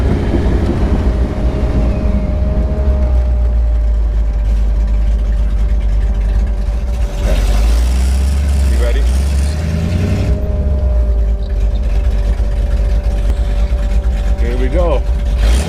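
Award-winning 1977 Dodge Aspen with loud open headers rumbling at idle in Arizona, a deep steady engine drone with a brief rev partway through, close up, with someone talking over it.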